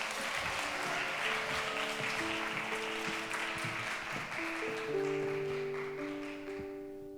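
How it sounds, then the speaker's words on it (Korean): A church youth-service congregation applauds warmly to welcome a young man coming up to give his testimony; steady, dense clapping fills the room for several seconds, with sustained music tones playing underneath. "우리 김민재 형제 올라올 때 따뜻한 박수로 맞아주시면 감사하겠습니다."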